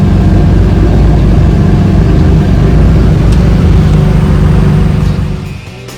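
Loud, steady low rumble of a bus engine in heavy Sharjah traffic, heard from inside the vehicle, droning continuously and then easing slightly near the end.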